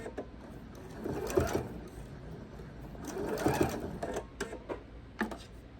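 A sewing machine stitching quilt binding, running in two short bursts of rapid mechanical whirring with clicks and pauses in between, close and fairly quiet, with no talking.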